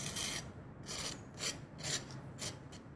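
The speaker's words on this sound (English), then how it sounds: "now I'm going to use this trowel just to thread it properly here" A trowel spreads crack isolation membrane over an outdoor concrete patio. It makes about six close, rhythmic rasping scrapes in quick succession.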